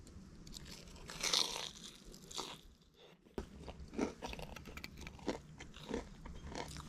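Crunchy fried black bass, freshly caught and cooked at a camp, being bitten and chewed close up, with crisp crackling crunches and softer chewing that carry on over several seconds.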